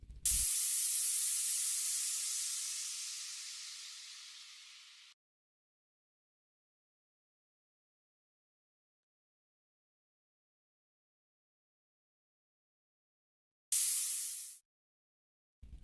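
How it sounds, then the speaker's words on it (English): A burst of white noise sample, truncated and faded, hisses bright and harsh, swelling in then decaying over about five seconds, followed by long silence and a second short hissing burst cut off abruptly. "a more esoteric, atmospheric feel using a truncated and faded white noise sample"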